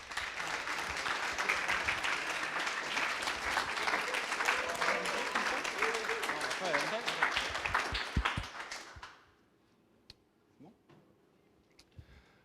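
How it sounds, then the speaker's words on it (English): Audience at a coding bootcamp demo day applauds a presenting team: sustained, close clapping for about nine seconds that quickly fades to near silence with a few faint taps and movements. "So let's applaud them."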